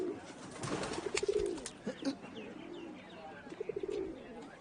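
Pigeons coo in a low, repeated rhythm alongside a few scattered bird calls, moderately close with steady background ambience.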